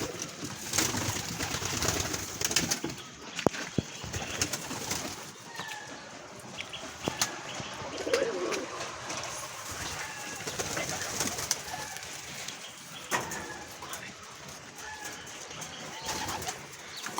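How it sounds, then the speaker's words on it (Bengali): Pigeons coo steadily at feeding time, a close, continuous chorus of soft throaty calls with faint rustling, and no one speaks. "আমি এখন আমাদের কবুতরের জন্য খাবার নিয়ে এসেছি"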